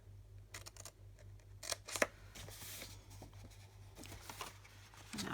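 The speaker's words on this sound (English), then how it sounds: "I'm going to cut these as straight as possible" Scissors cutting Stampin' Up! Awash In Beauty designer series paper, with several crisp snips and rustles over a low steady hum at close range, no talk.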